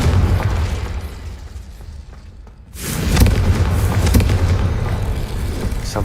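Confringo explosive spell in Hogwarts Legacy: a loud, booming blast bursts in after a brief dip in the game's background rumble, followed by a sustained crackling roar. No voices.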